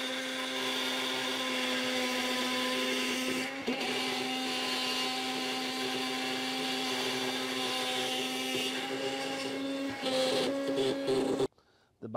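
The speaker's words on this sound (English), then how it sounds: "we have the Bosch with the 4 nails and a Diablo metal cutting bit" A Bosch 12V oscillating multi-tool fitted with a Diablo metal-cutting bit grinds through four nails with a steady, high-pitched buzzing whine. It drops briefly mid-cut, then cuts out sharply near the end.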